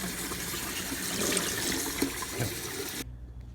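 Water runs steadily from a tap in a broad, even hiss, then cuts off abruptly near the end, leaving a quiet hum.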